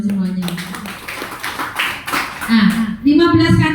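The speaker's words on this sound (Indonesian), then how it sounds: "Tepuk tangan untuk jenengan semuanya." An audience at a business presentation claps in short bursts of tapping hands, mixed with loud talking and voices that carry over and between the claps.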